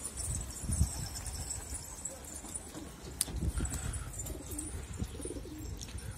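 Soft, low pigeon coos sound faintly against outdoor background noise, with scattered flutters and light taps.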